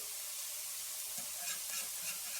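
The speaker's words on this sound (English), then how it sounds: "melt down your butter. And then when your butter is melted, you got to wait for it to kind of like bubble up" Steady, soft sizzling of butter in a pan, with faint bubbling crackles throughout and no talking.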